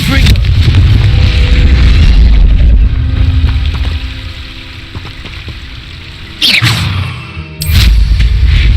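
A Confringo fire-blast spell in the Hogwarts Legacy video game erupts as a loud, sustained booming roar with rumbling low end, dipping in the middle before two sharp renewed bursts near the end.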